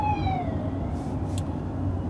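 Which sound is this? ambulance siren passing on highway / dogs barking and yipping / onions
ambulance siren passing on highway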